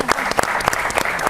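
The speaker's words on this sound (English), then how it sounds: "Please give a round of applause to my CEO." Audience applause breaks out as a burst of loud, dense clapping with sharp individual claps, close and continuous through the moment.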